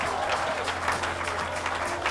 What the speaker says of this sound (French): Acclamons les pères.